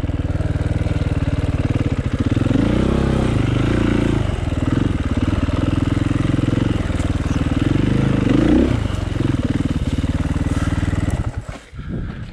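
Dirt bike ridden along single-track K Trail at Durhamtown Plantation, its engine droning loudly and steadily close by with brief throttle swells, then the revs drop away near the end.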